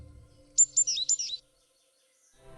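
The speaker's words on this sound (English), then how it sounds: "one can hear and be amazed by the sounds of chirping birds" Small birds chirp in a quiet winter forest in Polissya, Ukraine: a quick burst of about five sharp, high tweets close together, then silence, with a faint low rumble underneath.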